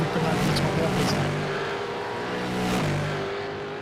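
A Supercars race car engine in the iRacing simulation at Bathurst's Mount Panorama screams at high revs, a loud continuous roar with shifting pitch as the car rips over a crest, with a commentator talking over it.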